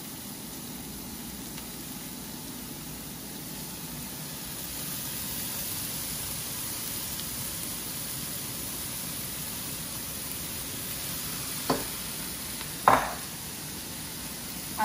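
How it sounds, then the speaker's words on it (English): Cauliflower rice sizzles steadily in a hot pan for keto fried rice, a constant hiss with faint stirring beneath, then a few sharp utensil clacks against the pan near the end. "Now I'm going to just add my cauliflower rice to the mix."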